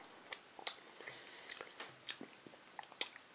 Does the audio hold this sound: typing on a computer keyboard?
no